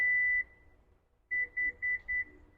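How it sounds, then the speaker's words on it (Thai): A Toyota Fortuner power tailgate gives one longer electronic beep, then after a short pause four quick even beeps in a row, clear and close in an otherwise quiet setting. "พอมีเสียงสัญญาณดังขึ้นมาประมาณสี่ครั้ง"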